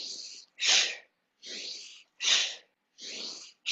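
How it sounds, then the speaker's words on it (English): Forceful breathy exhales in a yoga arm-pull exercise, three sharp loud bursts alternating with softer breaths in a steady rhythm, close and alone. "make two fists and pull down to your sides with a big loud exhale"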